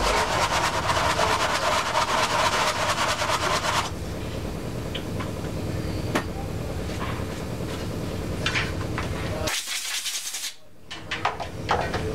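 An Evinrude/Johnson carburetor part is rubbed flat on sandpaper in rapid, rhythmic rasping strokes that stop abruptly, followed by a short puff of air and a quieter stretch.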